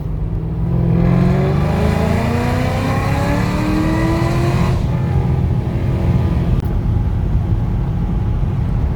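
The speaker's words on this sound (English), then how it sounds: "Just gonna do a little third gear pull." A supercharged LSA-powered Chevy SS fitted with methanol injection makes a third-gear pull, the engine roaring loud and close as its pitch climbs steadily for several seconds before easing off.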